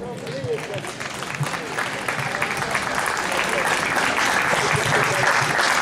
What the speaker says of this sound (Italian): guardi questo applauso